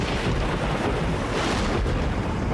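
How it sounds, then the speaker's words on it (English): A violent thunderstorm at sea: a steady, loud roar of wind and rain with rumbling thunder, continuous throughout with no voices. "Wind shifts are sudden, whipping up the sea, bringing torrential rain, violent thunderstorms,"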